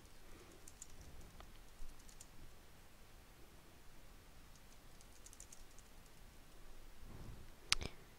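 Soft, sparse keystrokes tap on a computer keyboard in a quiet room, faint scattered clicks with one sharper click near the end and no voices.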